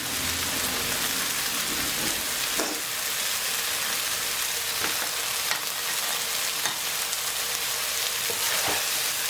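Vegetarian Thai-style long eggplant with basil stir-frying in a pan, a steady dense sizzle with occasional scraping stirs of the spatula, close and continuous with no talking.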